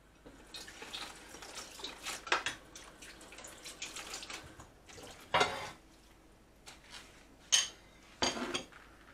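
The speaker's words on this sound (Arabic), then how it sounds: "وغادي ندير نص كاس الماء، لان الدجاج غيطلق ليا الماء" Water poured from half a glass into a chicken tagine with onions, heard as a few short, close splashing and dripping bursts among light kitchen clatter, fairly quiet overall.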